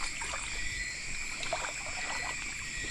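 River water trickles and gurgles softly in a clear stream, faint and steady with small splashes scattered through, no voices.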